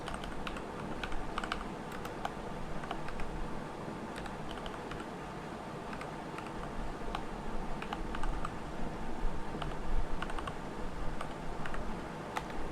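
Someone types a terminal command on a computer keyboard, producing a steady stream of quick, close key clicks over a faint background hum.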